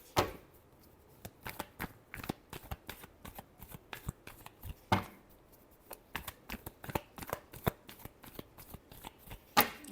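Tarot cards being shuffled up close, a long run of quick, crisp riffles and slaps in irregular bursts, fairly quiet and with no talking.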